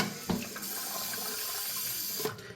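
Water trickling and hissing steadily from a malfunctioning toilet fill valve, close and continuous with a couple of brief knocks, no talking.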